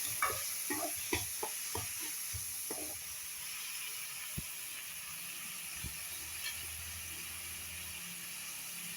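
Chopped tomatoes and onions sauté in a pan: a soft sizzle runs throughout, while a spoon scrapes and taps in quick strokes early on before the stirring settles into a quieter hiss.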